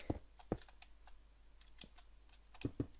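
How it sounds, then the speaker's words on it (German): Broken space bar on a computer keyboard pressed repeatedly, giving sharp, close clicks: a pair at the start, scattered lighter taps, then a final quick double press. "wie ich richtig geil auf meiner Tastatur die kaputte Space-Taste spamme"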